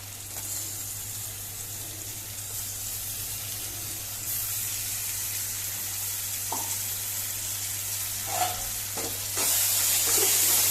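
Masala of ginger, garlic, green chilli and fresh coriander fries in oil for Goan-style chicken, hissing steadily under a low hum, with a few stirring knocks and a louder sizzle near the end.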